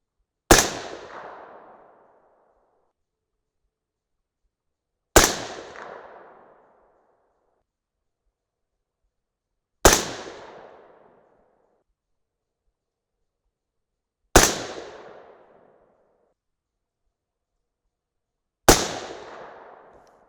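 An AR-10 rifle chambered in 6.5 Creedmoor fires five single gunshots, spaced about five seconds apart, each a sharp loud crack followed by a fading outdoor echo.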